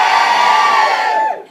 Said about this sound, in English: Women, give me a cheer.